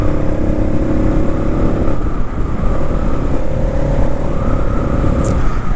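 A Keeway K-Light 150cc cruiser motorcycle carrying two riders holds a steady mid-pitched engine drone with a faint rising whine, continuous and fairly loud, with wind rush and no talking.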